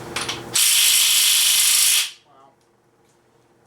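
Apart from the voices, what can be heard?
impact wrench with socket on engine bolts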